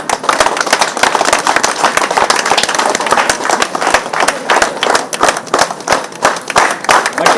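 Audience applause at a pyramid anniversary celebration in Puttur: dense, continuous clapping from many hands, loud and close, with sharp claps standing out through the full stretch.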